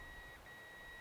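A fishing bite alarm gives a steady high electronic tone with a brief break partway through, faint against a low hiss, with no one speaking.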